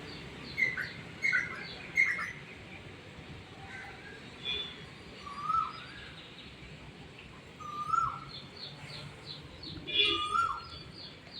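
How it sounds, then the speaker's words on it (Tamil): A bird calls repeatedly on a morning near a home, short bright chirps spaced every second or two over a faint outdoor hum, fairly distant and soft. "இந்த பறவை வந்து ஒரு 1 மந்த்தாவே காலையில, மதியம், சாயந்தரம்னு வந்து கத்திட்டுருக்காங்க."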